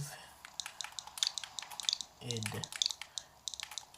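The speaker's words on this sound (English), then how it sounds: "Still trying to get used to the typing on this thing." Rapid, irregular clicks of typing on a device's keys while entering a creature's name in Ark: Survival Evolved, close and fairly quiet, with a brief low vocal murmur partway through.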